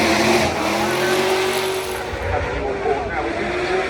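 Racing car at the Goodwood Festival of Speed, a loud engine roaring and revving close by, with a voice talking over it and crowd ambience behind.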